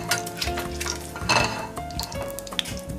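Food frying in an oil bath in a wok, a busy crackling sizzle with spatula stirring and occasional clinks of metal against the pan.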